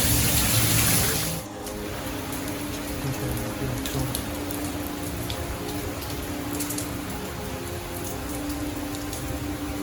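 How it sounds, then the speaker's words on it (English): Steady rain falls outdoors, a dense, continuous patter at an even level from start to finish, with no voices heard. "it became very clear that the rain wasn't going to go away."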